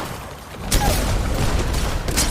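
Gunfire from a battle royale video game during the final circles of a tournament match: rapid bursts of shots erupt twice over a rumbling background of game sound, fairly loud and dense.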